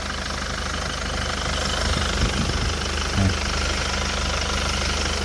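A used Korando Sports engine idles under the open hood with a steady broadband hum and low rumble, a couple of faint knocks and thuds breaking the otherwise even drone.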